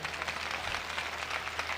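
An audience claps at a Christian sermon gathering, a brief steady patter of many hands, moderately loud and continuous without a voice over it.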